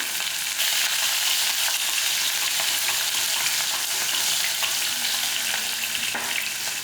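Shallots and garlic fry in hot oil for a pirandai curry, giving a steady, loud, dense sizzle that fills the whole stretch with faint stirring ticks.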